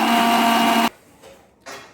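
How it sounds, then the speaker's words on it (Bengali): Mixer grinder whirring loudly as it grinds dry homemade spices with a splash of water, one steady burst that cuts off abruptly, followed by brief faint rustling. "মিক্সচার মেশিনে নিলাম, নিয়ে একটু গুঁড়ো করে নেব।"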